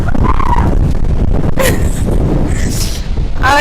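Strong wind buffets the microphone in loud, continuous rumbling gusts at an outdoor festival, with no break over the whole stretch.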